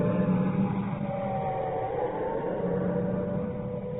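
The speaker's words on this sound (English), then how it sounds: "I'll just let you listen to the traffic and the sound of the siren for a moment." A wailing air raid siren holds long rising and falling tones over a continuous wash of London street traffic noise at night, fairly loud and distant.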